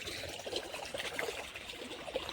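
Irrigation water streaming into a wheat field on a farm, a steady broad trickling and gurgling flow that runs continuously at moderate level throughout, with no voices over it.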